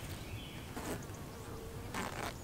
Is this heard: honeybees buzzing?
yes